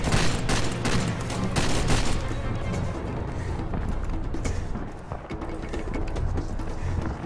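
Dense, continuous gunfire in the Far Cry 2 shooter, overlapping shots cracking at close range without pause across the whole stretch, loud and sustained with no clear gaps.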